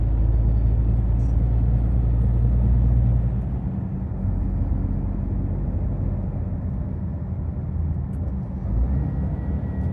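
Heavy motorway traffic rumbles past in a continuous deep roar, loudest in the first few seconds and then settling into a steady, slightly softer drone of many vehicles, with no talking.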